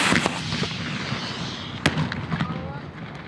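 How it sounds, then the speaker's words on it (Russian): Kalashnikov assault rifle and pistol shots crack at a military shooting training range, sharp reports scattered irregularly at moderate distance over a steady background hiss. "Кроме обращения с ручным противотанковым гранатометом, тренируют стрельбу из автомата Калашникова и пистолета."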